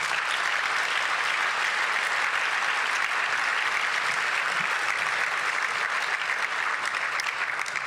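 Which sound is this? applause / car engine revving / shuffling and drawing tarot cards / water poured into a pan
applause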